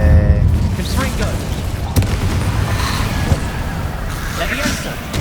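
A Confringo fire spell cast in Hogwarts Legacy on PS5 bursts out amid dense, continuous combat noise, with a sharp impact near the middle over a steady rumbling background.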